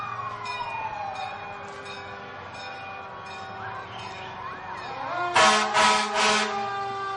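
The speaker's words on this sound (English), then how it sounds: "we have some more antique fire apparatus" An antique fire apparatus rolls by in the Fitchburg Civic Days parade: its siren winds down in a falling wail, then three loud horn blasts ring out over the ambient crowd.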